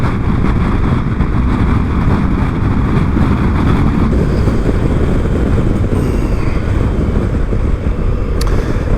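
A motorcycle ridden through corners on an advanced riding test, engine and wind noise roaring loud and continuous up close, with the throttle held steady throughout.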